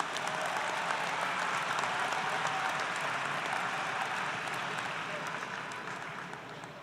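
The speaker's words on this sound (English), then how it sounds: "Give them a round of applause, please" Sustained applause from a college commencement audience, broad crowd clapping at a moderate distance that holds steady and then gradually fades.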